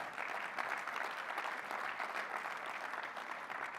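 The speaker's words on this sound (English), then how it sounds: "Big round of applause" At a Mutual of Omaha Bank all-associate meeting, the audience breaks into a continuous wash of clapping, even and fairly soft as if heard from a distance, with no voices over it.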